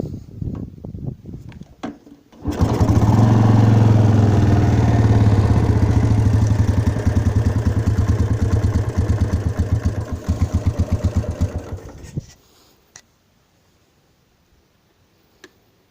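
An NSU Max motorcycle engine, restored after sitting 10-15 years, starts up and runs steadily with a rapid ticking thump for about ten seconds close by, then cuts off to near silence.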